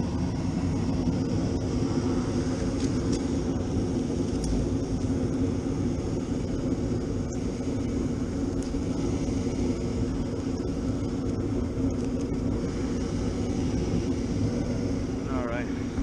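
An HVAC furnace burner fires up and runs, giving a steady, dense, rumbling roar that stays even at moderate loudness for the whole stretch, with no distinct breaks.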